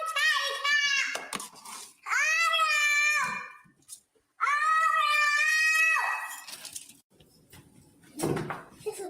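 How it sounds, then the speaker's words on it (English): A cat meowing in long drawn-out wailing cries, two extended loud yowls with shorter calls around them, heard close up, with a person calling out nearby. "Come here, Tiny Cat!"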